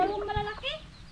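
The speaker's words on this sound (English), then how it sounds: "They're chickens, I think" Chickens cluck near ducks and ducklings at a home in the Philippines, a few short clucking calls close by with faint background noise.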